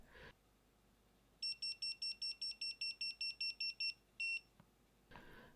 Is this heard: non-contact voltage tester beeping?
yes